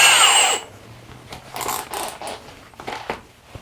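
A Milwaukee Gen 3 (2804) hammer drill with a 1 inch spade bit, a short whine at the start and then uneven grinding bursts as the bit chews through wood, close by.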